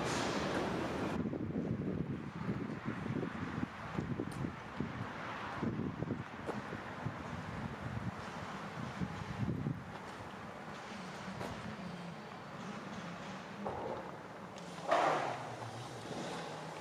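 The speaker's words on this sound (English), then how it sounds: "That's the wind, not ghosts." Wind blowing through a huge abandoned Australian sawmill and rumbling against the microphone, with gusty low roaring and faint creaks and knocks from loose machinery.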